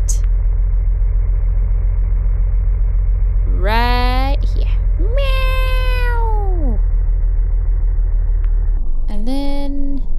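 Several cat meows in the Mimic Search video game, three separate drawn-out calls with rising and falling pitch over a steady low game background hum, one in the first half, a longer one after it, and a short one near the end.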